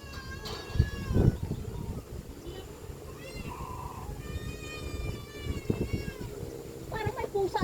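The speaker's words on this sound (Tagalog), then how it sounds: "Parang may pusa sa gitna." A cat meows several times among grassy outdoor surroundings, rising and falling calls at varying distance, with people talking nearby over faint background noise.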